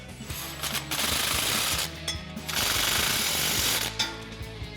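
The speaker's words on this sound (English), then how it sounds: "to tighten those down, we're going to go ahead and use our 13mm socket with a swivel and our 15mm wrench" Socket and swivel tightening exhaust bolts on a Ford F-150, heard as bursts of loud rapid ratcheting or impact-driver rattle, close up, separated by short pauses.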